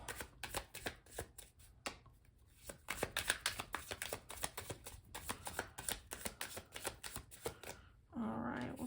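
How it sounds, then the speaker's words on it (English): Tarot cards are shuffled again and again, a quick run of crisp riffling flicks and taps, close and fairly quiet, ending with a soft rustle. "Let me do another shuffle here and then I'll cut the deck"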